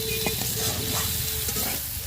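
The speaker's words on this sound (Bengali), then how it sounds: "এবার চাউমিনটা ঢেলে দেওয়া হবে। এগুলো সব ভাজা হয়ে গেছে।" Chowmein stir-fried and tossed in a hot pan, a loud close sizzle with brisk stirring and scraping throughout.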